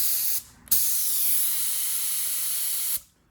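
A paint spray gun at about 45 psi hisses in two bursts, a brief one followed by a steady, loud spray lasting a couple of seconds before stopping.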